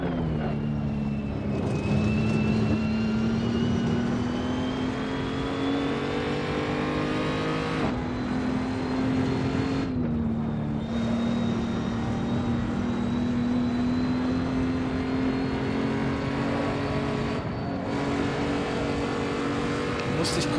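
A race car in a racing video game held at full throttle on the Nordschleife, a loud continuous engine whine with pitch that holds steady and briefly dips at gear changes and lifts, with someone commentating underneath.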